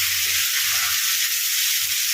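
Fish frying in oil on a tawa, a steady bright sizzle with constant hiss and faint low bubbling, close and even throughout.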